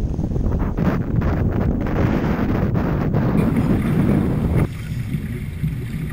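A sailboat at sea off Martinique rides through wind and choppy waves, with rushing water and gusting wind buffeting the microphone in a loud, uneven wash that drops slightly near the end.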